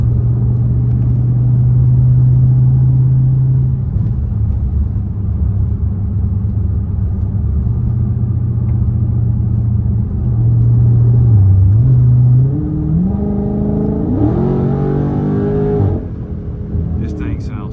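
Loud, deep engine rumble from a straight-piped Scat Pack car, idling and then revving upward in rising pitch sweeps, close and throaty.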